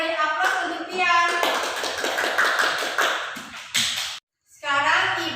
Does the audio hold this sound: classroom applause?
yes